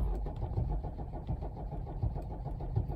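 A Mercedes OM617A diesel engine with a fuel inconsistency issue runs at a steady idle close by, a rough, even low-pitched clatter pulsing without break.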